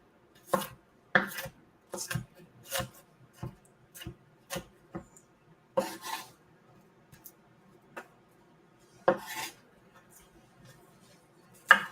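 A knife chopping onions on a cutting board, a dozen or so sharp separate knocks at an uneven pace, close and clear against near silence.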